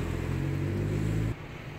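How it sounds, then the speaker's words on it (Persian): A car approaches on a street during a German practical driving test, a low engine rumble that holds steady and then drops abruptly to a quieter hum, with no talking. "ماشین داره میاد"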